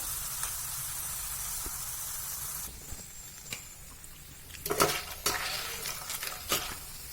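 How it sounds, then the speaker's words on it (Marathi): Thin raw banana slices fry in oil until golden brown, a soft continuous sizzle that quiets down, then bursts of stirring and scraping against the pan. "दुसऱ्याही साईडने नीट भाजू द्यायचं."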